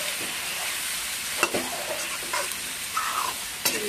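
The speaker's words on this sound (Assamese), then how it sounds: "জিৰাখিনি দি ভালদৰে ভাজি ল'ব" Cumin seeds frying and being stirred with meat in a hot pan: a steady sizzle with a few scraping stirs, close and moderately loud.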